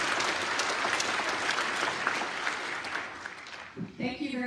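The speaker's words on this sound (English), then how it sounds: "please give a big round of applause for Caoimhe Evans" An audience at a mathematics talk applauds the incoming speaker, a dense patter of clapping that thins and fades near the end as a voice begins.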